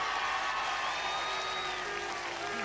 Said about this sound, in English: Ladies and gentlemen, can I have your applause, your cheers for Penny Fowler as a world champion?